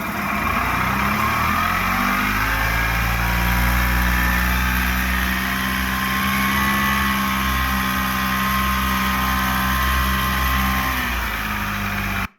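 A low engine idles steadily with a deep, even rumble and faint mechanical whine, holding constant throughout before cutting off at the end.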